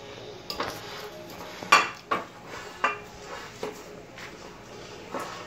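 A spoon clinks and scrapes in a dish while s'mores are mixed with Nutella, giving a handful of light, close knocks and clinks over quiet room tone.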